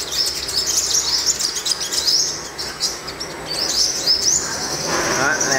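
Caged yellow-bellied five-colour sunbirds giving thin high chirps and quick trilling calls, close and fairly loud, with other bird sounds and someone talking underneath.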